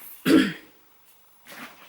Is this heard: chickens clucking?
no